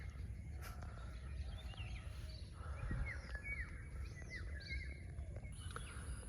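Birds chirp softly in the quiet early morning at Motijheel, Murshidabad, with scattered short calls over a still, low background and no talking.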